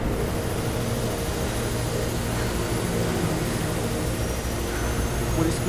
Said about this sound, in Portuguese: Ali o helicóptero vai ser nosso meio de fuga.